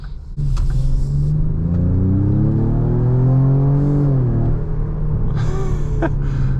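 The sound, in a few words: artificially amplified SUV engine sound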